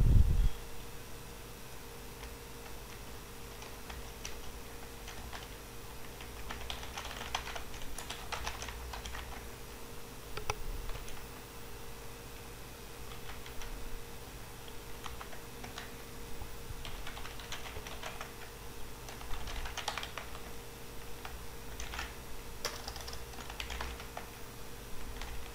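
Someone types steadily on a computer keyboard while filling in a sign-up form, producing quiet irregular clicks and tapping bursts throughout, with no talking over it.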